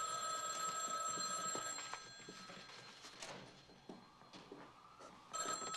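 A telephone bell rings in bursts through an indoor scene in a 1993 New York film, the ringing clear and fairly close amid faint background activity, pausing and starting again near the end.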